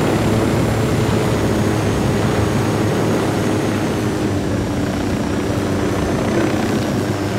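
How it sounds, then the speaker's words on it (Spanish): A helicopter's steady rotor drone and engine hum fill the scene continuously, loud and close, with no talking, in the video game Ghost Recon Wildlands. "A ver si podemos seguir por acá abajo sin romper el helicóptero."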